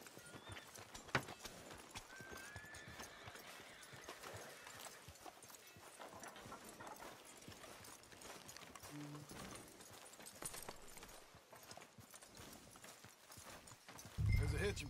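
A horse clip-clops along at a steady walk in Red Dead Redemption 2, soft rhythmic hoofbeats beneath ongoing character dialogue and ambient background sound.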